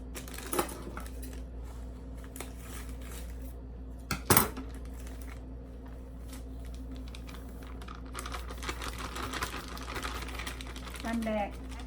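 A utensil stirs rice flour and yeast batter in a bowl, with soft scraping and occasional sharper clinks against the bowl, spoken talk intermittently around it.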